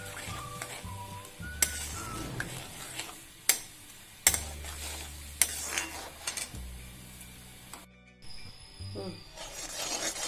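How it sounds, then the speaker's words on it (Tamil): Jaggery syrup bubbles and sizzles in a pan, with intermittent scraping and clinks of a utensil stirring against metal. "பாகு இப்ப நல்லா மொறைச்சு கொதிக்குது பாருங்க"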